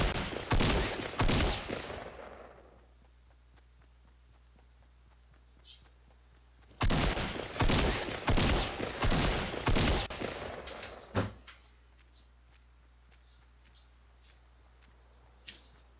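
Gunshots fired into the air in a video game come in two loud, rapid bursts separated by a quiet gap. Faint clicks and a sharp crack follow the second burst.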